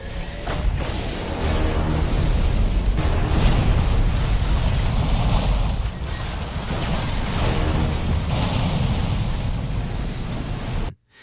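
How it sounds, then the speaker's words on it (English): A massive, roaring explosion rumbles on for several seconds, dense and loud, before cutting off abruptly at the end. "killed the aliens along with the general in a massive explosion"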